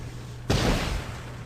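A spell attack such as a meteor explodes in the Wands virtual reality game, a single sudden loud boom followed by a broad roaring decay lasting about a second over a low background hum.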